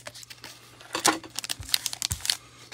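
The top being cut off a foil trading card pack: a quick run of crinkles, clicks and tearing rustles, close and fairly loud, with no talking.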